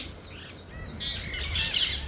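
Several birds squawk and chirp close by in a short, busy burst of harsh calls growing louder toward the end.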